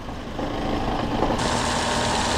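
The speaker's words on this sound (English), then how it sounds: "You even hear the idle moving." A 2011 Toyota Camry engine idling while running rich, a steady close-up low rumble with a slight shift partway through as the idle changes.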